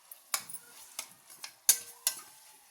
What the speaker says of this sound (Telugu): ఇలా టమాటో అంతా వేసేసి ఒకసారి బాగా ఫ్రై చేసుకుందాం